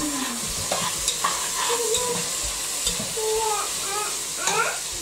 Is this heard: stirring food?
yes